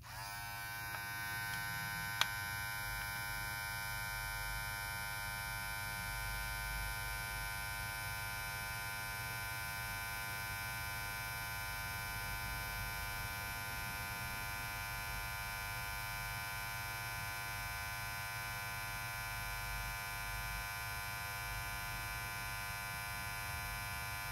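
An Altez hair clipper motor runs continuously with a steady electric hum and buzz, close and unchanging, with a brief click near the start and no speech.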